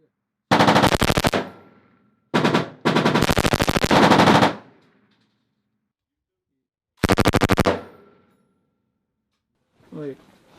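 U.S. Army M249 and M240 machine guns fire at a range at Fort Huachuca, Arizona: loud, close sustained bursts of automatic fire with short pauses between, then a long gap before a final burst and a brief voice.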